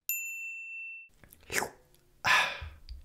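A bright bell ding rings out clearly and fades over about a second, followed by a couple of short rustling, sneeze-like noises.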